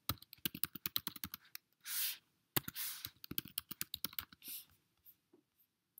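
Someone fills in a sign-up form on a computer keyboard, making quick bursts of close, crisp key clicks broken by short pauses and a few longer keystroke runs, with no talking.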